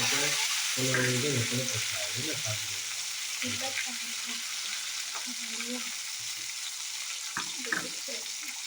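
Chopped tomato frying in a pan, giving a loud, constant hissing sizzle that fills the clip, with a voice talking over it at the start and a few small clinks later.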